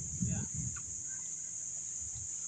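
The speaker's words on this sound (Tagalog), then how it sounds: "Ala, ang daming manok, oh." A few low clucks and grunts from chickens nearby in Pasir Ris Park, Singapore, over a constant high-pitched insect-like whine.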